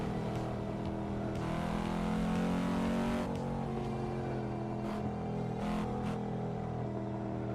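Engine of a Volvo car driving in a video game, a steady droning hum with a rising surge midway and a few sharp clicks or shifts later, continuous and fairly close.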